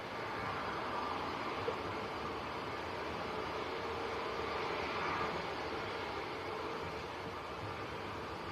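A Ryanair Boeing 737 lands at Manchester Airport, a steady broad engine and air roar from a distance, even in level throughout with no talking.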